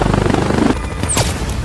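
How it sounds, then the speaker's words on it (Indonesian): Enemy gunfire erupts near a helicopter during an extraction: loud, rapid bursts of shots over a steady rotor wash, with a sharp crack near the end and no talk. "Saat berlari menuju helikopter, tiba-tiba musuh melepaskan tembakan."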